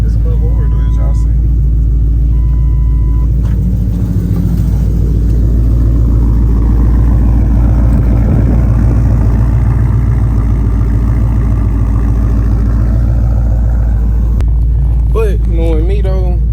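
Cammed Ford Crown Victoria engine idling with a steady, choppy low rumble throughout, close and loud, while a person talks over it for much of the time.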